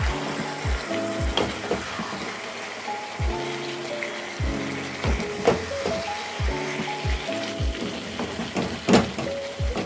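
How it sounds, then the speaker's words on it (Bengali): Chicken stirred with meat masala in a hot pan, a steady sizzle broken by repeated scraping and knocking strokes of a spoon, close and even, without voices. "এরপর আমরা তার মধ্যে মিট মশলা দিয়ে দেব এবং ভালো করে আমরা এটাকে নেড়ে চেড়ে নেব।"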